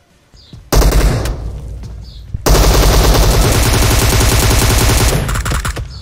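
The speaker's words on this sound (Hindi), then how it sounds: "उस बंदे ने और मैंने एक साथ मतलब जंप शॉट मारा" Gunfire in the mobile battle royale PUBG Mobile: a short burst, a brief pause, then loud, sustained automatic fire with rapid, evenly spaced shots up close.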